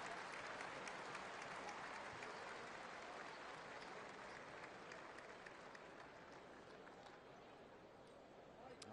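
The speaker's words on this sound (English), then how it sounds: "And a nice ovation from the crowd here in Memphis." Sustained crowd ovation filling a Memphis basketball arena, dense steady applause and cheering that holds for the whole stretch and eases slightly toward the end.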